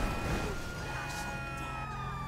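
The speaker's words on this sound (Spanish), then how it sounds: "Y me voy a prender la sirena, amigos" Police car siren in the video game GTA 5, a continuous wailing tone held steadily under a dense, loud mix of engine and game noise, with a voice talking over it.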